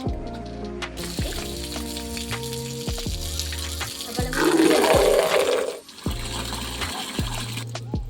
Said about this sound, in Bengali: আমি এবার কলে পানি আনতে